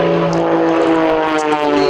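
Steady, loud buzzing drone of a Pitts S-2S aerobatic biplane's piston engine and propeller at a summer air show, continuous with no talk.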